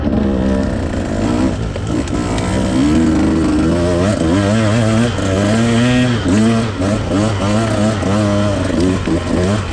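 A 150 dirt bike engine revving on a single-track trail, with a close, loud buzzing that rises and falls in repeated throttle blips and no break.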